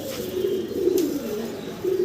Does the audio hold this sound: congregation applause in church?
no